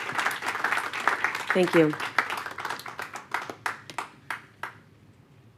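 An audience at a school board business meeting claps after a brief spoken thanks. The scattered applause thins to a few isolated claps and fades out.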